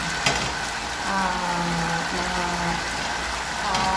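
Balbacua meat sizzles in a pan, a steady broadband frying hiss that runs evenly throughout with a faint tonal hum underneath and one brief clatter near the start.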